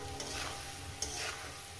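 Okra frying with turmeric in a pan, a quiet, steady sizzle with faint stirring swishes and one light clink.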